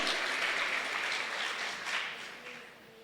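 Applause from a church congregation during a sermon, a steady wash of clapping that gradually fades over a few seconds.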